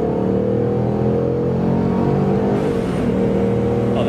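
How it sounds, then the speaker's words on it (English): A 650 HP Procharged Ford Mustang revs with a droning, whirring engine tone, and the supercharger's blow-off valve releases in a brief whoosh partway through, with no voices. "Oh, that blow off's nice."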